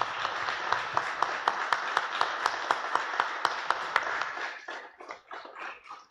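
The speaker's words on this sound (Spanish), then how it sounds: "Los recibimos con un fuerte aplauso." A congregation applauds newly ordained deacons at a diaconal ordination with a brisk, steady round of clapping and sharp individual claps standing out in an even rhythm, then it thins out and fades.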